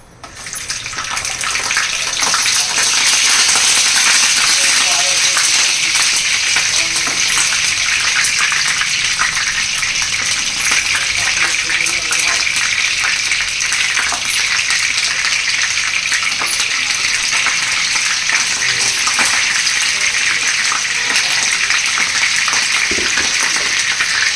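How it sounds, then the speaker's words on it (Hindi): Momos fry in hot oil with a loud, even hiss of sizzling that rises in the first second or two and then holds steady and close, with no one talking. "तो अभी मैं मोमोज भी इसमें ऐड कर दूँगी, उसको भी फ्राई कर लेंगे हम।"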